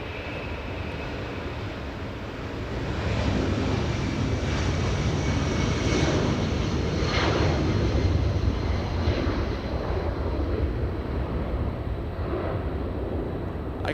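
Delta Boeing 757-200 airliner lifting off from runway 24 left at Los Angeles International Airport, a steady broadband engine roar that swells after a few seconds and holds strong, heard from a distance outdoors with no talking.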